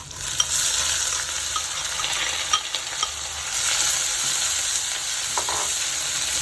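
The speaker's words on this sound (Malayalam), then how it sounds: "സവാള ഇട്ട് കൊടുക്കാം" Onions sizzling and frying steadily in a pan for Kerala-style onion chutney, a continuous close hiss broken by a few soft clicks of a stirring spoon against the pan.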